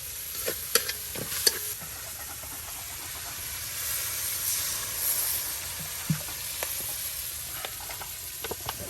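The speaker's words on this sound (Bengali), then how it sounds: "মুরগির মাংস ভুনা ভুনা, পুরো বোনা হইব।" Chicken meat stir-fried bhuna style with little gravy in a village kitchen, a steady close sizzle and hiss with scattered stirring scrapes and clinks throughout, no voices.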